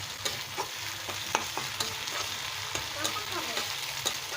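Garlic paste frying in a pan, giving a steady close sizzle with repeated light scraping stir strokes throughout, no voices.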